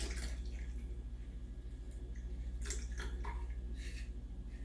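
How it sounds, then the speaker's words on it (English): A dirty martini cocktail poured from its covered container once the cover comes off; liquid splashes in short irregular bursts over a steady low hum, close and fairly quiet, with no talking. "Take the cover off and pour."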